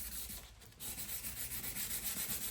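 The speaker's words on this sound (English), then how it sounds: "All right, we're gonna sand by hand." A car headlight being wet-sanded by hand with a pad gives a steady, close scrubbing rasp that runs almost the whole time, with a brief dip near the start and no talking.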